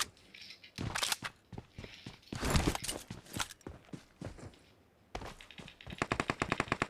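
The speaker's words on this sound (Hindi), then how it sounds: "गोली चल रही है, गोली चली" Bursts of gunfire in a battle royale shooter game, with rapid automatic volleys and single shots, the fire starting and stopping throughout alongside footstep-like clatter, with no voices.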